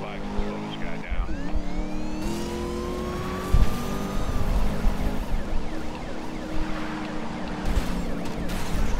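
Car engines race in a police chase in the Need for Speed video game, with a loud sustained engine roar, rising and falling tones and a sharp bump midway, under occasional talk.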